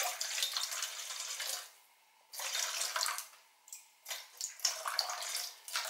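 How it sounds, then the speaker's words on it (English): Water streams into a sourdough mixing bowl in several pours, about 270 grams in all, each a rushing splash broken by short pauses, fairly close and with no talking. "then I'll put in"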